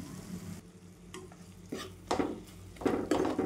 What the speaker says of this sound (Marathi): आता कांदे टाकून घेऊ आपण. परतून घेऊत आपण.